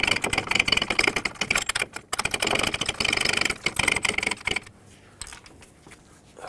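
A ratchet wrench tightening a 32 mm ball joint nut on a 2008-2010 Ford F-250, with quick bursts of rapid clicking that briefly pause, then resume before stopping, leaving faint handling noises.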